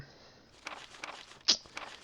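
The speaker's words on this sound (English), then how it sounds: "So we're hearing footsteps here and we're trailing it." Footsteps in the video game Resident Evil 2 on PlayStation, a few soft, quiet steps following a faint ambient hum, with one sharper louder tap near the end.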